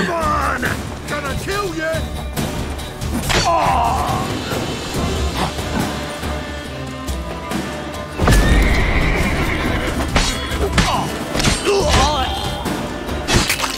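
A horse in The Witcher 3 neighs and whinnies amid clip-clopping hooves, thuds and a crash, with loud game music and sound effects throughout and a sharp impact partway through.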